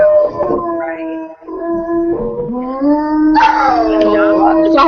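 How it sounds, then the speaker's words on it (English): Several dogs howl together in long, rising, overlapping wails, loud and close, sustained throughout. "That's a lot of howling."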